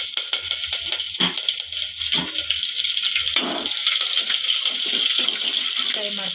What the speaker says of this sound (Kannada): ಈಗ ಎಣ್ಣೆ ಕಾದಿದೆ. ಇದಕ್ಕೆ ಸ್ವಲ್ಪ ಸಾಸಿವೆ, ಬೆಳ್ಳುಳ್ಳಿ ಮತ್ತು ಕರಿಬೇವಿನ ಸೊಪ್ಪು ಹಾಕಿ